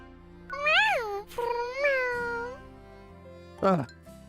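A voice mimics a kitten with two drawn-out, rising-and-falling meows, followed by a shorter third meow after a pause, close and clear over a faint background hum.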